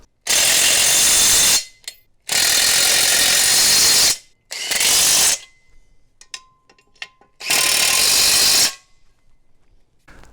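A power tool or ratchet drives bolts into a 2-bike hitch rack in four long bursts of loud, steady whirring, separated by short pauses with small clicks and handling noises. No one speaks.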